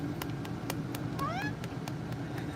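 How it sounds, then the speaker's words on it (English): A house cat giving a short rising chirp over a soft, steady rhythmic purr, close to the microphone. "He just chirps and purrs."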